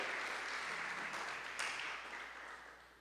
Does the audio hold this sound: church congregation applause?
yes